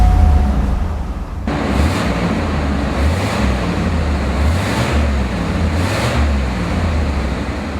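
A 1979 Cadillac Seville sedan's engine cranks and catches, then settles into a low, smooth, quiet idle that hums on evenly with slight pulsing swells.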